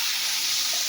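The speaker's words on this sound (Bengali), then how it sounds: "দেখো জল দিয়ে দিচ্ছি" Water is poured into a cooking pan, making a brief, steady rushing hiss with a soft splash, close and alone.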